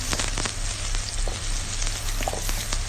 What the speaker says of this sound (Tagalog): igisa-gisa natin konti yung ating garlic